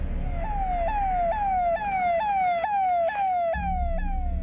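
An ambulance siren wails in steady repeating rising sweeps, loud and close, over a low rumble of traffic or engine noise, with no talk over it.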